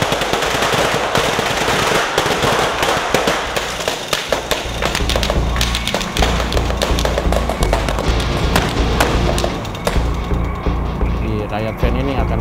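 Special-effect gunfire rattles in rapid bursts against the front of a riot van on a film set, sharp cracks and thuds repeating through the stretch, mixed with voices and background noise.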